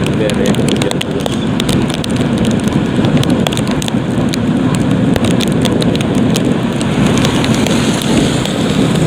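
Heavy, continuous rain pours down steadily in a flood-hit village in Indonesia during the rainy season, a dense loud wash with scattered sharper drops and no pauses.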